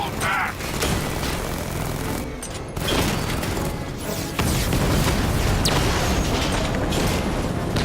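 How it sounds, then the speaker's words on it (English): Dense bursts of gunfire and booming explosions from the Batman Arkham Knight game fill the scene continuously, loud and chaotic, with mechanical clatter mixed in and game voices talking at times. "Nice shooting!"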